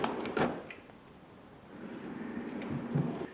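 A deep center drawer on a home workbench slides open or shut, with a couple of soft rumbling scrapes and bumps heard alone at close range.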